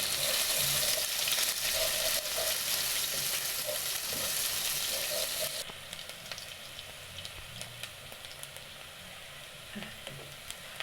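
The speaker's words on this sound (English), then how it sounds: "So cook your onions until they start turning brown" Onions sizzling and frying in a pan for a chicken curry, a loud steady crackle that drops to a quieter sizzle partway through, with no talking.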